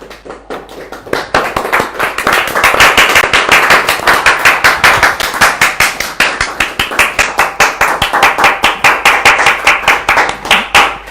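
An audience at a spiritual lecture claps in a long, steady, rhythmic unison beat, loud and close, with sharp regular hand strikes continuing without talk for about ten seconds.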